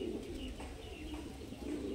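Two Madrasi pigeons give soft, low cooing calls, a few rolling phrases heard faintly against a quiet, steady room background.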